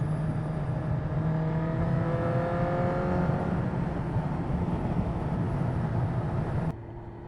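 Suzuki GSX-R 1000 streetfighter motorcycle on a road test ride, its engine droning loud and steady with rising revs and gear changes throughout, alone with no talk, cutting off just before the end.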